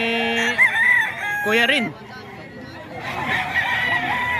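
A Thompson White stag gamecock crows loudly and close by, two drawn-out calls separated by a short pause. Someone speaks briefly between the crows.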